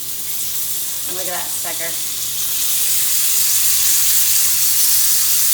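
A steak just flipped in a hot pan gives off a steady, loud broadband sizzle that swells slightly after the turn, with a brief spoken remark over it.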